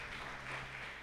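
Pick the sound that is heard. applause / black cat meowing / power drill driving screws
applause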